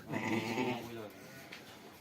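A sheep bleats once, a wavering nasal cry close by on a sheep farm, followed by quieter background noise.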